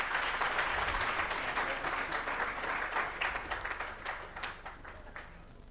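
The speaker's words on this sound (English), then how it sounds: "A resounding round of applause." Audience applause at an Africa Month leadership dialogue, continuous thick clapping from a seated crowd, steady and moderately loud, tapering a little toward the close.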